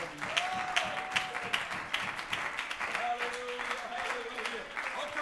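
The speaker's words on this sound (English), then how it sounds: "Let's clap our hands and give the Lord praise." A church congregation claps in praise with a steady rhythmic beat, and voices carry on over the clapping throughout.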